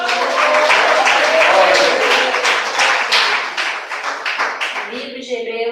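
A church congregation claps together in applause during a worship service, a dense, sustained patter of many hands over several seconds, mixed with voices and fading toward the end.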